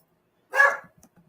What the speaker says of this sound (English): now the dog wants out